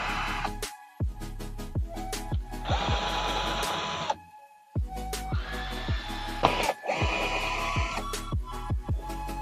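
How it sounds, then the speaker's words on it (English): Hinges are unscrewed from the lid of a chest freezer with a power screwdriver, giving repeated whirring motor bursts separated by clicks and short pauses, close and fairly loud. "Unscrew all the hinges fully from the lid."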